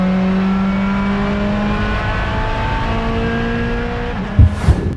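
A Lamborghini Gallardo engine held at a steady drone on a dyno, its harmonic tone rising slowly over a sustained, loud run, with a couple of sharp thumps near the end and no talking.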